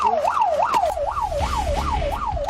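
A Korean fire truck's siren wails loud and close while responding to a call, rising and falling in a steady repeating sweep about every 0.7 seconds over low road and engine rumble.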